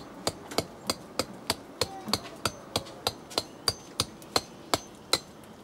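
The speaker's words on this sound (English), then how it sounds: "I'll start to chase the stone, removing the rougher stone, the rougher parts, making it even so that it can stand properly" A chisel is struck against stone to knock off the rough parts, about a dozen crisp metallic taps at a steady, unhurried pace, close and clear with nothing else heard.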